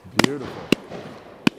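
Three sharp shotgun reports at a game shoot on Leighton Long Mountain, fairly close and evenly spaced over the clip, with faint ringing tails and a quiet outdoor background.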